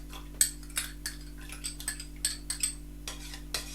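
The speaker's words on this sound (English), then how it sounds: "I'm gonna pop that straight into the pot." Pomegranate seeds dropped into a pot for tea, a steady series of small light ticks and taps as the seeds land, over a low steady hum, with no talk.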